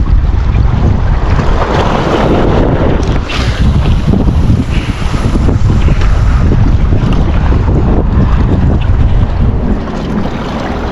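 Heavy wind roars across the microphone in constant gusts, mixed with the rumble of a boat and sloshing waves on open water while fishing at sea off Bahrain.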